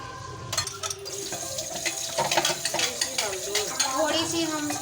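Water pours and splashes into a spice paste for kofta curry in a pan, close up, with light clinks of a utensil against cookware.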